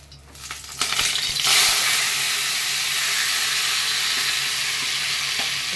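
A raw papaya and pumpkin mash hits hot oil, a sudden loud burst of sizzling that swells in about a second and then settles into a steady, close hiss with faint steam.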